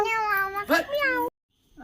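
A voice imitates a cat's meow, two drawn-out mewing calls in a row, close and clear, followed by a short pause.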